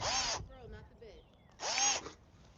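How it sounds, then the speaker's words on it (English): Power drill boring into a log while making a Swedish fire log, two loud whirring bursts of about half a second each, separated by quieter handling noise and brief speech. "we're gonna try the other drill one more time"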